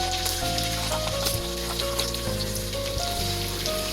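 Garlic frying in hot oil for a Kerala-style beef pickle, with a steady close sizzle and crackle that carries on without a break.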